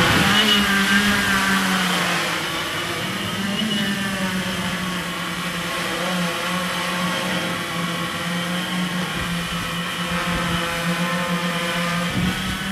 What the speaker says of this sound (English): there's a lot of wind here. The wind is coming from every side.